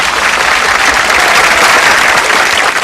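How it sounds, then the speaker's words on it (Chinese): A loud, close audience bursts into sustained applause at a stage event, a thick and even roar of clapping that carries on without a break and with no talk over it. "来，掌声啊！"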